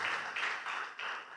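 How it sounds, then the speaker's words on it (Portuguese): A church congregation applauding at a Portuguese-language service, a soft wash of many hands clapping in uneven swells, fairly faint and brief. "Amém. Aplauda Jesus."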